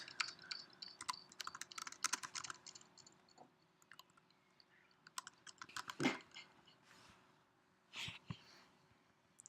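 Bursts of keystrokes on a Mac computer keyboard come in quick, close clusters of soft clicks separated by pauses, with a few louder taps and faint handling noises and no talk.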